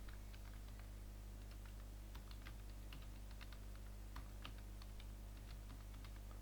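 Fast, steady keystrokes on a computer keyboard as someone types C code with a printf statement. The clicking is quiet and close and runs throughout, with no voice over it.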